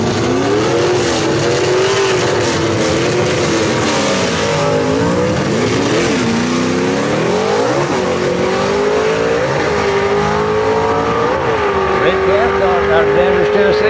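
Drag race cars, a Ford against a Chevy in a Southeast Gassers race at Knoxville Dragway, roar loudly and continuously with rising, shifting engine pitch as they accelerate down the strip, under an announcer's voice.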